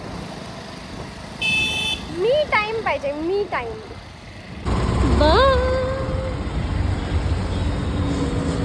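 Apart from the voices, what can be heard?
road traffic with car horns and idling engines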